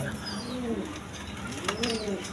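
A pair of shirting pigeons cooing in a pigeon seller's loft, two drawn-out throaty coos close by with faint chirps and light background noise.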